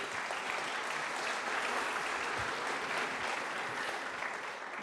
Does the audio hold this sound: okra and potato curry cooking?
no